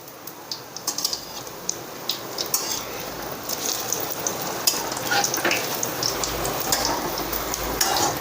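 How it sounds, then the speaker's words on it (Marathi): Bhaji fritters fry in hot oil with a steady crackling sizzle and scattered sharp pops throughout, close and fairly loud. "लाल होईपर्यंत तळून घ्यायचा"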